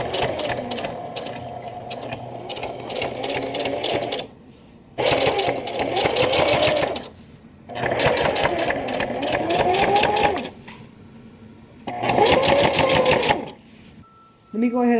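A sewing machine stitches a messenger bag in three or four loud, close bursts of rapid mechanical chatter, each lasting a few seconds and separated by brief pauses, with quiet voices in the background.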